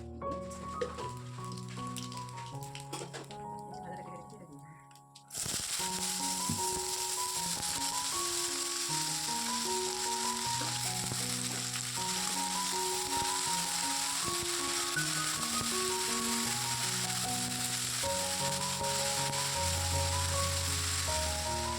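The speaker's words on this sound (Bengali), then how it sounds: "তো চলো কালো জিরে দিয়ে এটা কাঁচা লঙ্কা দিয়ে এটা ভেজে নেব" Black cumin seeds and green chillies hit a hot kadai, and a steady sizzle switches on abruptly and carries on under loud background music.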